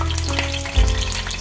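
Brinjal pieces dropped into hot oil in a kadai, giving a loud, continuous close sizzle and crackle with a brief low thump partway through.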